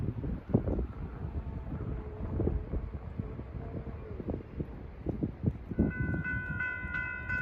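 An Amtrak train rolls along the Hudson River line on a chilly evening, a low rumble of wheels and cars under gusty wind noise, with a sustained horn tone sounding toward the end.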